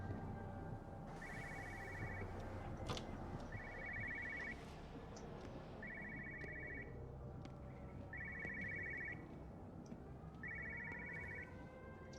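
Telephone ringing in the video game Everybody's Gone To The Rapture, sounding in five evenly spaced bursts of electronic trilling over a steady low ambient drone.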